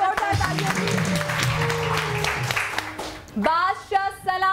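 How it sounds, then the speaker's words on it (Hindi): Studio audience applause on a Pakistani morning TV show, a dense clapping wash with music and a voice over it, giving way near the end to a sung or spoken passage. "डॉक्टर ईसा के लिए जोरदार तालियां"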